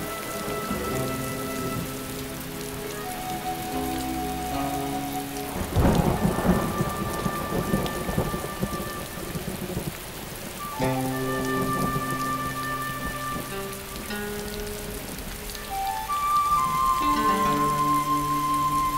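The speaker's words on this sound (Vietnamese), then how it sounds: "ngoài này mưa gió lạnh lắm" Heavy rain pours steadily outdoors with rumbling thunder swelling in bursts, a dramatic storm scene with music-like tonal layers running beneath the downpour throughout.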